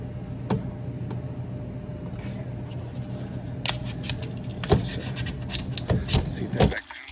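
A hand smooths a peeled sticker back onto a refrigerator during a temperature controller repair, giving soft continuous rubbing with several sharper scraping swipes, close to the mic.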